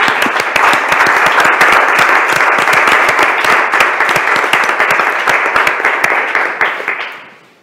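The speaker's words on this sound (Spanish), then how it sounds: "Un aplauso, yo creo que se merece un aplauso." Audience applause at a plenary meeting, dense sustained clapping from a large crowd that holds steady for several seconds and then fades out.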